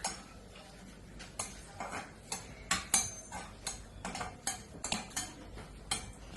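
Cashews being dry-roasted in a pan, with a spoon or spatula repeatedly scraping and clinking against the metal in an uneven rhythm, close and fairly quiet, with no talking.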